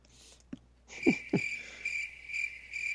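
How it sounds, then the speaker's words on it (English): Cricket chirping played as a comedic silence effect on a wrestling discussion show, a steady high pulsing chirp repeating evenly after a few brief knocks and thumps, fairly quiet, with no talking. "You can play the crickets if you want."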